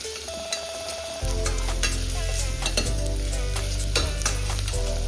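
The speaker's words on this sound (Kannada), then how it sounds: "ಈರುಳ್ಳಿ ಎಲ್ಲ ಸ್ವಲ್ಪ ಚೆನ್ನಾಗಿ ಫ್ರೈ ಆಗಬೇಕು." Onions fry with a steady, close sizzle in a pan while a spoon or spatula stirs and scrapes in quick repeated strokes, no voices.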